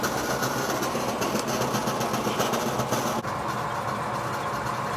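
A Brunswick bowling pinsetter runs after being switched on, a loud, steady mechanical drone and rumble of motor and turning pulleys, close and continuous, with a slight shift partway through and no voices.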